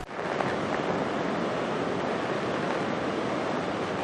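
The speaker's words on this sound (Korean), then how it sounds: "정말 거기에 걸맞게 엄청난 양의 물이 흘러가고 있어요" Dettifoss waterfall in Iceland, a massive volume of water thundering down, heard as a steady, loud, dense roar close by with no voices.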